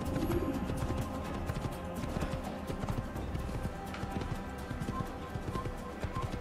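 A horse gallops in the Assassin's Creed video game, its hooves clip-clopping in a quick, steady, close rhythm over a continuous background bed throughout.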